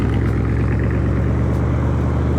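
1963 Chevrolet Impala with fender skirts running close by, a loud, steady low engine rumble that holds through the whole short stretch with no talk.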